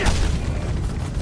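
A turret strike attack in Fallout 76, a heavy booming blast with a dense low rumble that lingers for about a second, loud and close.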